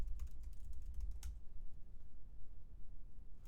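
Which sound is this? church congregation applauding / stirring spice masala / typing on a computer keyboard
typing on a computer keyboard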